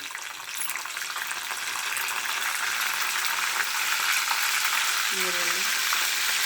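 Onions frying with curry leaves, mustard seeds and cumin in a pan: a loud, steady, dense sizzle that builds slightly and holds, close up, with no talking.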